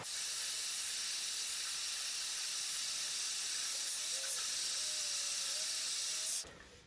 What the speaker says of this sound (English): I'm going to repeat the process with blow drying and building up a couple of layers